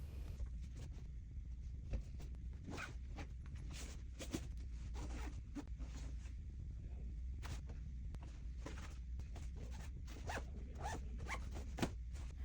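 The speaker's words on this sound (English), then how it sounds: "I might have to sit on it until it zips." Over an overfull travel suitcase packed with clothes, a zipper rasps in many short, uneven pulls, close and fairly quiet, as it is worked bit by bit around the strained case.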